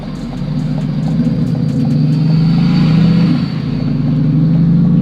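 A Corvette C8 with a heads-and-cam upgrade revs loudly and steadily close by, its deep engine tone swelling to a peak near the middle before settling back to a sustained rumble, with no talking.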